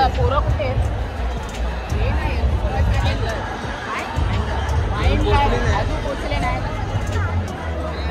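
Dense crowd hubbub at a Govinda festival gathering, a steady wash of overlapping voices and chatter filling the space at a constant level throughout.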